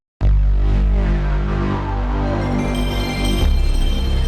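A PlayStation 1 console startup sound plays loud and close: a sudden swelling synth chord that shimmers and builds, then shifts to a deeper sustained drone near the end.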